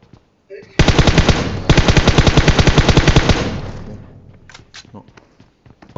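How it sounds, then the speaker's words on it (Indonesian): Loud, close automatic gunfire in the mobile battle royale game PUBG Mobile, two sustained rapid bursts of evenly spaced shots over about three seconds, trailing off into quieter scattered game sounds. "Oh, ada orang tembak."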